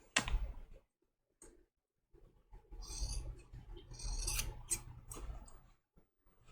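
Scissors snip close around the corners of a fabric snowflake appliqué for a quilted trivet, heard as short crisp cuts, then rustling and rasping fabric handling, close up and alone.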